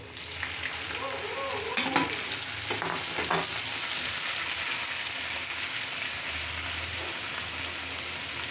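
Malabar spinach greens with prawns frying in oil give a loud, steady sizzle throughout, with occasional stirring scrapes and clinks near the start.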